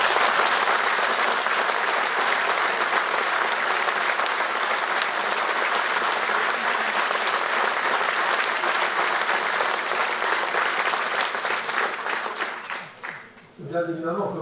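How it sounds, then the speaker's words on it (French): A large audience applauds at a New Year's wishes ceremony, dense sustained clapping that continues strongly before thinning out near the end, where a voice begins to speak. "je voudrais qu'on les applaudisse aujourd'hui."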